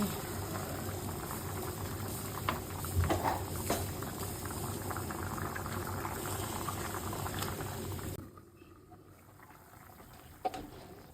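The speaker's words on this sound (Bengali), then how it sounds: "আলু দিয়ে ঝোল হচ্ছে, আলুটা করলে মাছের মাথা দিয়ে দেব" Fish head and potato curry simmers in a pot, a steady, close bubbling boil with soft patter that runs continuously before dropping away to near quiet, followed by a single faint clink.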